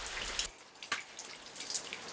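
Rain dripping on a rainy day, faint scattered drops tapping at irregular intervals against a soft hiss, with no talk.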